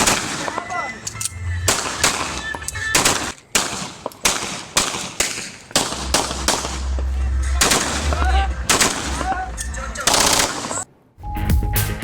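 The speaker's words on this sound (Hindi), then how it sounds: "फिरोजवाला में इफ्तार के बाद फायरिंग की फुटेज 92 न्यूज को मिल गई।" Gunfire captured in news footage after an iftar gathering in Firozwala, with many sharp shots fired in rapid, indiscriminate bursts across the whole stretch, loud and close, separated by brief pauses and mixed with a background of voices.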